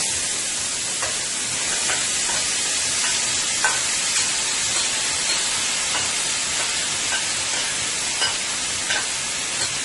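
Masala fries in hot olive oil in a pot for a beef curry, giving a loud, continuous hissing sizzle with faint crackles throughout and no voices.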